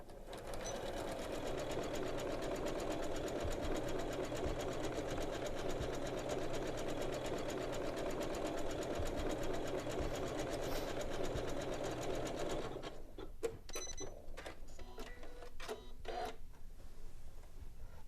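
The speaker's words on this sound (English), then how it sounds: "Now let's sew it with a 1/2 inch seam allowance." Janome sewing machine stitching a half-inch seam allowance on a bag lining, a steady fast mechanical whir running continuously before stopping, followed by scattered clicks and handling noises.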